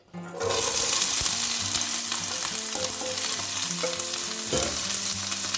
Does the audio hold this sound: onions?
yes